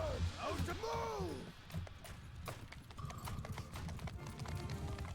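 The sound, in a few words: cavalry horses galloping in the video game Bannerlord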